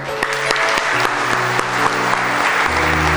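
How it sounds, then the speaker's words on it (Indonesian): Guests at a wedding reception clap for the newly married couple, a dense, steady round of applause from a nearby crowd with sharp individual claps standing out. "Tepuk tangan untuk mereka."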